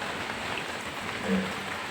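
Light drizzling rain on an early morning in India, a soft, even hiss of fine drops heard throughout at a moderate, steady level.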